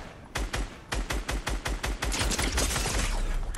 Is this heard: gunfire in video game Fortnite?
yes